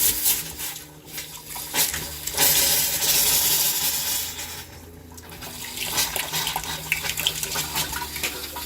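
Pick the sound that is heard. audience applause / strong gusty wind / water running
water running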